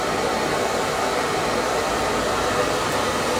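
A hair dryer blows steadily and loudly throughout, drying thin hair after a layer cut, with an even broadband whoosh and no pauses.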